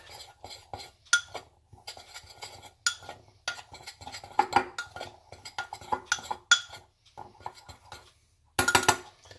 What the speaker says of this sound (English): Mix all that together really good.